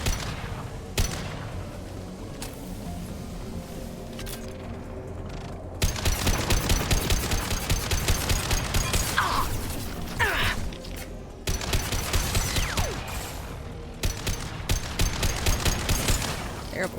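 Gunfire in the Mass Effect 2 video game, with sharp shots at first and then sustained rapid bursts of automatic fire, loud and dense throughout.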